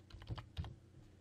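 Soft typing on a computer keyboard, a short burst of several quiet keystrokes entering a password, close and alone without speech.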